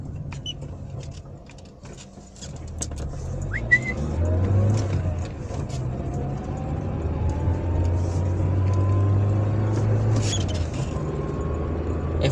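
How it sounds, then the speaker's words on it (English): A car sits in street traffic while a school bus approaches, heard as a steady low engine rumble and drone rising and falling, with faint passing-vehicle whine and light clicks, heard from inside a vehicle. "There's a school bus which is coming, and that car is gonna have to move."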